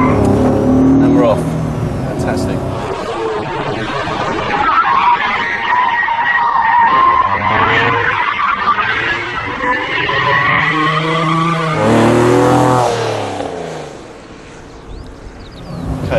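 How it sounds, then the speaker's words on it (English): A car performs a clutch kick turn with rear wheels spinning, its engine roaring and tyres squealing and skidding loudly in long sideways bursts, while someone talks over the noise. "Clutch in power, there we go. Back wheel spinning"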